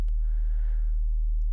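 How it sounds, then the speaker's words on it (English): A pure sine wave from a synthesizer, used as a neuro bass starting point, plays as one steady, deep and smooth tone that holds unchanged for about a second and a half, with nothing else heard. "But if I have just a pure sine wave, it'll sound like this."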